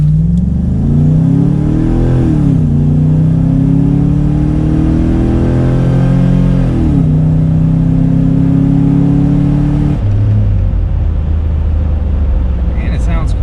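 A Toyota 80 Series Land Cruiser with an LS V8 swap revs repeatedly, the engine note rising and falling in several loud pulls before settling back toward idle, heard close and continuous.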